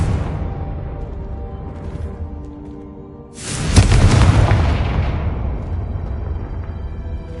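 Confringo spell explosion in Hogwarts Legacy: a single loud, close blast bursts after a quieter rumbling stretch, then its deep boom decays slowly over several seconds.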